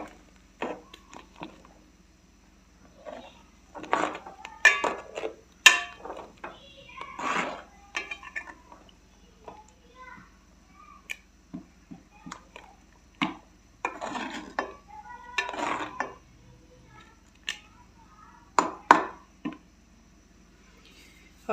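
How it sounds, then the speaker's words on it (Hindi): A spoon clinks and scrapes against a metal pot while vermicelli is stirred into hot milk, sharp irregular taps and scrapes spread across a quiet kitchen with pauses between bursts. "अब सेवइयों को मिक्स करती हूँ और गाढ़ा होने तक इनको पकाती हूँ।"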